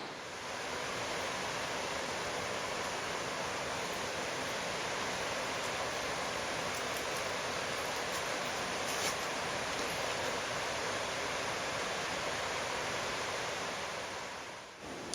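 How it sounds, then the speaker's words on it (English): A river flows steadily in Japan, a broad continuous rushing wash with no breaks, moderately distant and even in level throughout, with no voices. "Just the sound and the flow of the river is peaceful."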